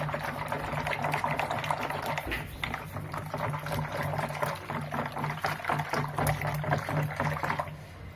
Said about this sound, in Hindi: ये इसको ऐसे ऐसे हम फेंटते जाएंगे हल्के हल्के हाथों